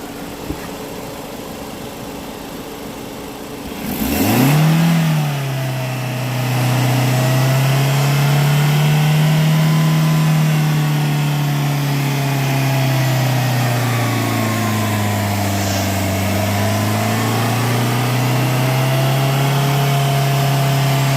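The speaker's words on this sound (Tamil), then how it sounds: "சார் ரைஸ் பண்ணுங்கள்" A 2022 Maruti Ertiga seven-seater idles, then its engine is revved up and settles into a sustained raised drone with slow rises and dips in pitch, close and loud throughout.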